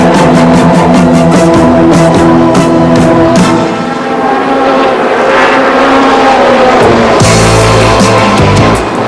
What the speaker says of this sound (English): This is some of the most competitive racing you can find anywhere